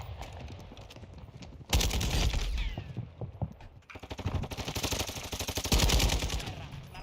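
Bursts of rapid gunfire ring out in a shooter video game, loud rattling volleys with a break between them and footsteps on a bridge faintly underneath.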